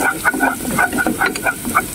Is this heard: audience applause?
no